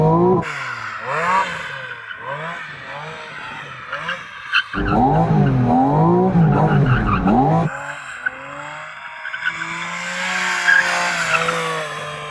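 A car engine revs repeatedly in sharp bursts, then roars hard as the car launches and accelerates away, loud and close.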